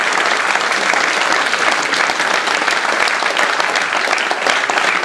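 A crowd at a political speech in Mantes-la-Ville applauding loudly and steadily, dense clapping that holds at an even level throughout without pause.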